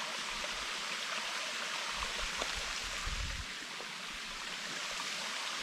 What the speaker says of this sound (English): Well, here it is, a little waterfall.